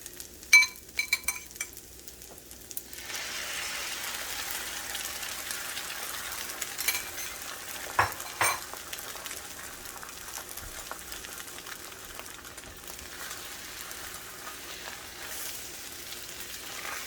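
Soybean sprouts and two eggs fry in a pan, a steady close sizzle after a few opening clinks of utensils, with an occasional tap of metal on the pan.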